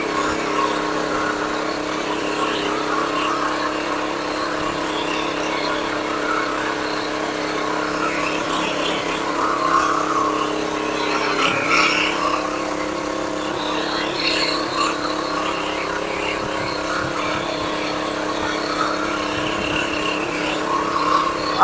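A 7hp power weeder's engine runs while tilling farm soil, a continuous, fairly loud mechanical drone with slight surges and rattles, steady from start to finish.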